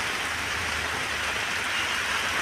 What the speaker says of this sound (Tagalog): Naulan na nga po.